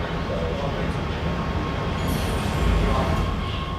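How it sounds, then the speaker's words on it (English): Los Angeles Metro Red Line subway train rumbling steadily and close at a station, a continuous low roar of rail noise with faint squeals near the end and no talk. "this is Metro Red Line, final destination, North Hollywood Station."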